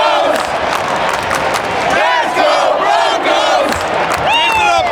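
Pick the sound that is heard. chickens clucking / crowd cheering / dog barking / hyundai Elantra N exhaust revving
crowd cheering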